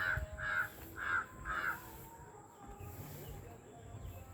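A crow caws four times in an even, evenly spaced run, loud and fairly near, then falls quiet over faint background noise.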